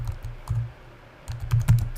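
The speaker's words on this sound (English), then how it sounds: "if I were to go out and do a keyword, let's just say I was typing in Christian gifts" Fingers typing a search phrase on a computer keyboard, close and crisp, with irregular bursts of keystrokes separated by short pauses and no talking.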